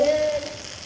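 A hamburger patty topped with cheddar cheese sizzles steadily on a hot griddle, a close, continuous frying hiss lasting under a second.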